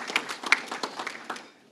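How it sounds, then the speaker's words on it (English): A round of applause from an audience at a Pancakes & Politics morning event, brief patter of clapping that swells and then fades out over under two seconds. "That deserves a round of applause"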